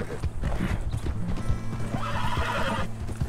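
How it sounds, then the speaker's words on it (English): A horse in the Red Dead Redemption 2 video game whinnies loudly while its hooves clip-clop in an irregular rhythm close by, the neigh rising and trailing off near the end. "Shut up, horse."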